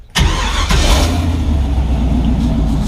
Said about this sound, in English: we're gonna go ahead and start truck